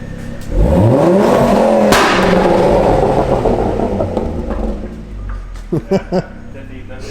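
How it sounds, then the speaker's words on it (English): A car engine revs hard once past 4000 rpm, climbing to a high-pitched roar before falling back to idle, then a few short voices come in near the end. "Stick the accelerator down and make it go over 4K revs."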